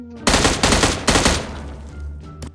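Bursts of gunfire from the mobile video game BGMI sound in several sharp, loud rapid-fire volleys, each quickly decaying, with a short faint pop near the end.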